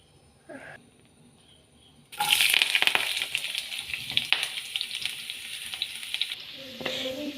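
Ginger and garlic hit a hot pan and burst into loud, crackling sizzling after a quiet start, then keep frying with sharp pops and crackles close up.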